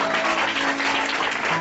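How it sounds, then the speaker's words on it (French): A church congregation at a Sunday service applauds together, steady dense clapping from many people throughout, full and close, with no one talking over it. "Est-ce qu'on peut applaudir?"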